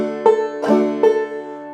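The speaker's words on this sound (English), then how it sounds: "That's a brush stroke followed by a fifth string quarter note." A clawhammer banjo plays a strummed brush stroke and then a single fifth-string quarter note, bright twangy plucks ringing over sustained open strings, close and clear with no talking.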